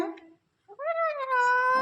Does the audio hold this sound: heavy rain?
no